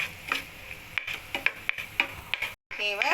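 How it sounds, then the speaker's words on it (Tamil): Cashews frying in ghee in a pan, a soft continuous sizzle punctuated by sharp clicks and stirring taps of a utensil, fairly quiet and close. "முந்திரி பருப்பு நல்லா வேகட்டும்"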